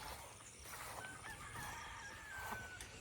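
A rooster crows once in a drawn-out call at moderate distance, with faint clucking and outdoor background noise.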